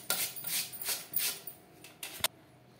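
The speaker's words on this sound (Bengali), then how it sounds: "আমি খোসা সহই গ্রেট করছি" Unpeeled potatoes are grated by hand on a grater, making rhythmic rasping strokes close by, about five or six scrapes, then a few lighter strokes and a sharp knock near the end.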